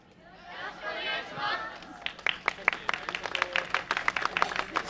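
A crowd at a yosakoi dance performance at the Dream Yosakoi Festival breaks into rhythmic clapping, a steady beat of many hands joining in after a stretch of mixed murmuring and cheering.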